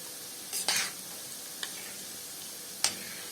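Onion fries in a pot on the stove for Egyptian koshari with a soft, steady sizzle, broken by a few sharp scrapes and clacks from stirring.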